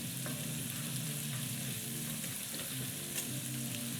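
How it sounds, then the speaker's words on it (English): French toast dipped in egg batter fries in a butter-coated skillet, a steady close sizzle with soft crackles and a low rumble running underneath throughout, no voices. "toast down in there with the egg batter on it, it starts to cook nicely"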